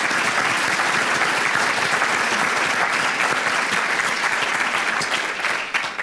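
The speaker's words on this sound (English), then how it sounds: "go have another round of applause for the class of" A crowd applauds steadily at the Winston-Salem Walk of Fame induction ceremony: dense, even clapping fills the room throughout and fades slightly at the end.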